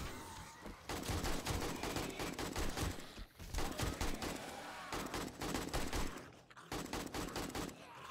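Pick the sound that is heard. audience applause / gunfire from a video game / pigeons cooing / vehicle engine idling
gunfire from a video game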